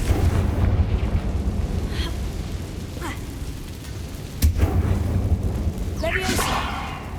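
Confringo fire spell blasting in Hogwarts Legacy, a sharp explosive crack followed by rumbling booms and magical whooshes, heard amid game ambience.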